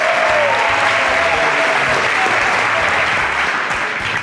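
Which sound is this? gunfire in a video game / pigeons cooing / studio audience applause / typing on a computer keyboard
studio audience applause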